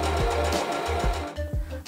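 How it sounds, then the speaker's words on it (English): A sewing machine stitches a fabric seam on a dress, close and clear, its motor whirring in short bursts with a rhythmic needle chatter and brief pauses between runs. "stitch along the same seam"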